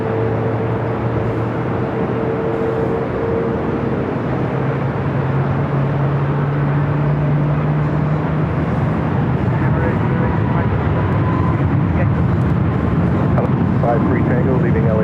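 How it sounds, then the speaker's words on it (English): An airliner arriving from Milan banks through a wide turn near Los Angeles airport, a loud steady jet roar with low engine drone filling the whole stretch, while radio chatter and talk run underneath. "The flight coming in from Milan and making that wide turn"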